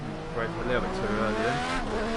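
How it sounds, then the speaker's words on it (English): A race car in Project Cars 2 locks its brakes, its tires squealing in a brief wavering screech over the engine's drone, loud and up close, lasting about two seconds. "Locked up the brakes a little bit."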